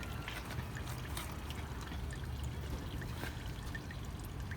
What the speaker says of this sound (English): as this coolant is slowly draining out, it's looking really murky